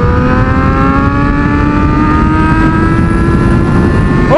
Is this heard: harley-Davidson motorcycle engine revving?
yes